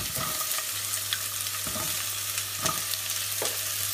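Onions frying in a hot pan for sambar and kara kuzhambu, a steady soft sizzle with a few stirring scrapes, fairly quiet and with no talking.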